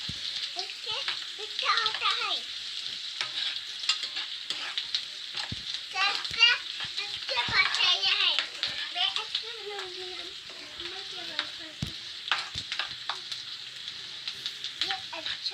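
Onions fry in a pan with a constant bright sizzle, while occasional scraping stirs and clicks from the spoon sound up close. Speech is heard over the cooking throughout.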